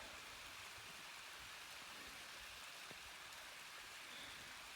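Small mountain waterfall spilling into a stream on a Rockies day hike, a steady, even rushing wash of water, close and continuous with no voices.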